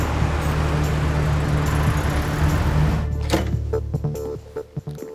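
A car drives along with a steady loud road and engine rumble for about three seconds. The rumble then drops away, leaving scattered knocks and clicks nearby.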